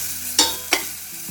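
Coriander and garlic paste frying in a pan for pepper rasam, a steady sizzling hiss with two sharp scraping strokes of the spoon, close and alone.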